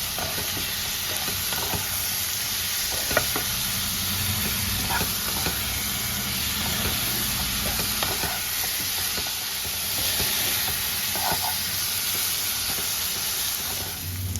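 Taro stolons being stirred in a pan with turmeric and spices, a steady close sizzle and hiss of frying with scraping stirring strokes throughout.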